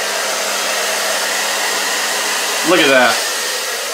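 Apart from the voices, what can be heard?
hair dryer running on high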